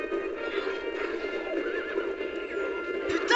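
Horse in Zelda: Twilight Princess neighing over a steady galloping clip-clop, with game music beneath and a louder burst near the end.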